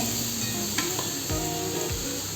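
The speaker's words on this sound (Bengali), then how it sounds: "নারকেলগুলোকে খুব ভালো করে ভেজে নিতে হবে" Steady close sizzling of grated coconut frying in a hot wok over low heat, with a few faint scraping stirs, no voices.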